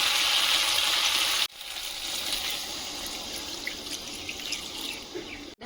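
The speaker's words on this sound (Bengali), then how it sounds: "এবার জল দিয়ে দেবো" Water pours in a steady rushing stream into a pot of braised meat, then drops to a softer, continuing trickle and splash for several seconds, close and alone.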